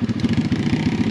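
Apollo RFZ 150cc swapped pit bike engine, a close, rapid, pulsing putter with a rough, even firing rhythm in a short burst.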